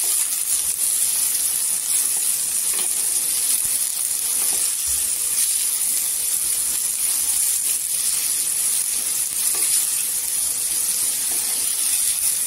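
Chopped tomato and two green chillies sautéing in oil, giving a steady, even sizzle and hiss that runs on alone without a break.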